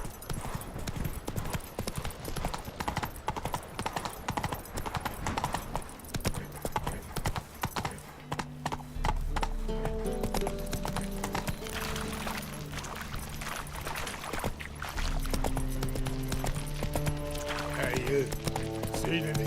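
Roach, a horse in The Witcher 3, gallops with steady, loud clip-clop hoofbeats throughout, joined partway by a low rumbling game score, while a voice talks over parts of it.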